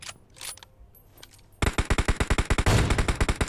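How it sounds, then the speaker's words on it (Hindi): Rapid automatic gunfire in PUBG Mobile: after a quiet stretch, a loud burst of evenly spaced shots starts abruptly and keeps firing to the end. "अब इस बंदे का यार एक शॉट देता हूँ जो कि बॉडी शॉट होता है"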